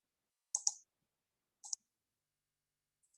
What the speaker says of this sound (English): And let me again click on login.